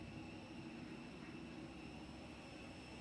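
A propeller or jet airplane passes overhead during an outdoor political rally, a steady, broad engine rumble holding even throughout without any voices.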